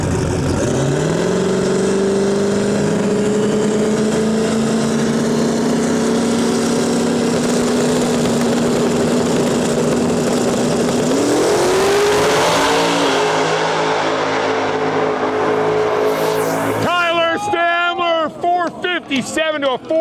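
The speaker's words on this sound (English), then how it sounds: "What a drag race." Drag race cars launching and accelerating hard in the X275 finals at the Rocky Mountain Nationals in Western Canada, a loud continuous engine roar rising in pitch for most of the run, then fading as a commentator talks over it.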